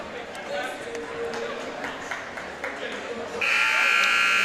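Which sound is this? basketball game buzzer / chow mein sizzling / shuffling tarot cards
basketball game buzzer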